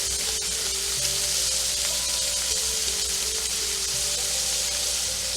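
Scallops searing in brown butter in a hot pan give a steady, close sizzle and crackle that runs unbroken throughout, with no talking.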